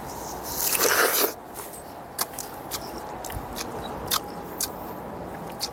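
Someone bites into a fresh, juicy orchard pear that is not yet fully sweet: a close, crisp crunch and wet tearing at the start, then a few faint chewing clicks.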